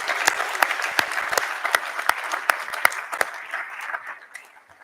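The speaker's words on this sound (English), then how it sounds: "So let's give our families and friends a really big round of applause." A hall full of families and friends at a dental school professionalism assembly breaks into sustained applause, dense clapping that holds strong for several seconds before tapering off.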